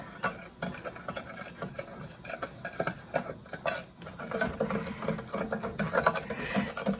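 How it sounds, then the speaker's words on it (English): Spiced pecan mixture being stirred in a bowl, with soft irregular scraping and light clicking of the spoon against the bowl, quiet and close, with no talk. "So I'm going to stir this."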